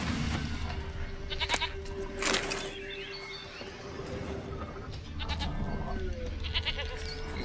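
A goat bleating in the video game The Witcher 3, several short wavering bleats heard up close over ambient outdoor background sound, with someone speaking between them.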